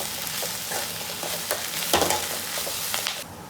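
Agathi spinach leaves sizzle loudly in a pan while being stirred, with scraping strokes over a steady frying hiss that drops away just before the end.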